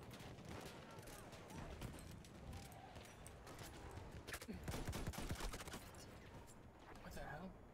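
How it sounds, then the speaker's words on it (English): A shotgun fires rapidly like a machine gun in the Battlefield 1 video game, with a quick, faint string of sharp cracks amid distant battlefield noise and a surge of bursts midway. "A shotgun can shoot like a machine gun?"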